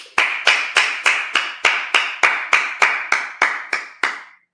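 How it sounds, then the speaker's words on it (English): A church congregation at a Sabbath service claps in a steady, even rhythm, about fourteen sharp, loud claps spaced evenly and close by, with no talking. "Let's clap it up."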